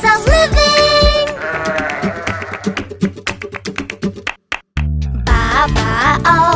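Sheep bleating in a nursery rhyme song, several wavering bleats over bright musical accompaniment, loud and close, with the tune pausing briefly before the bleats resume.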